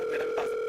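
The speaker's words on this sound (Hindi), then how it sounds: "आपका फोन आ रहा है।" A brief steady electronic telephone ringtone, close and clear, with no voices.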